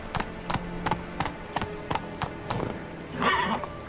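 A horse in The Witcher 3 galloping, with about a dozen sharp, evenly spaced hoof clops, then a short whinny near the end.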